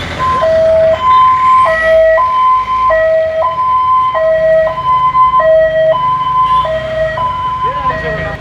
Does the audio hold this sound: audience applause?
no